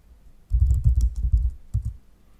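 Quick bursts of key presses on a computer keyboard as a Linux terminal command is entered, a close, dense clatter of clicks in two short runs with a brief pause between, no voices.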